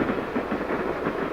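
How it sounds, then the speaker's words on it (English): An orange streamliner express train rolls downgrade through mountain country, a steady near rumble of wheels on rails with soft rhythmic clatter and hiss, no voices. "Having just passed the highest elevation on the route, the train is rolling downgrade"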